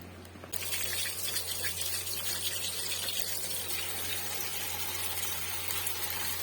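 Water pours and drains steadily from soaked ash gourd pieces through a strainer into a kitchen vessel, a loud continuous gushing splash that starts abruptly and keeps going without talk.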